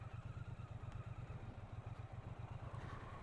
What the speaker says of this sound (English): you can hear the engine start to build up some revs